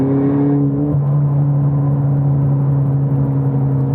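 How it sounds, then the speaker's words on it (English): A car engine that sounds like a four-cylinder drones loud and close, its steady raspy hum easing in pitch after a brief shift near the start. "when you really, really get on it, it gets really raspy"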